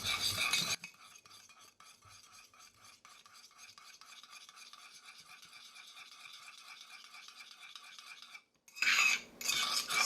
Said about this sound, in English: And we want to stir this very well.